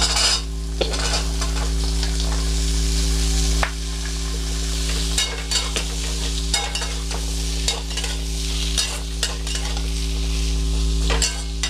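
Sweet pumpkin pieces fry in a pan with dried fish, a loud continuous sizzle punctuated by repeated scraping stirs and clinks of a spatula, over a steady low hum.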